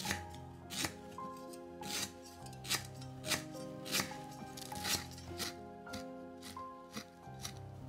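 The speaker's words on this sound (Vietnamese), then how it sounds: "Mình sử dụng 3 cây sả, mình sẽ băm nhuyễn." Knife mincing three stalks of lemongrass on a cutting board for vegetarian bún bò, a steady run of close, sharp chopping taps in quick rhythm with no talking.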